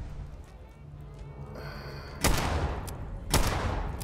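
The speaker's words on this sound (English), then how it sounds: "Yeah, we got a machine gun over here." Two loud bursts of gunfire ring out in Fallout 4, each a sharp blast with a short tail, separated by about a second over a low background hum.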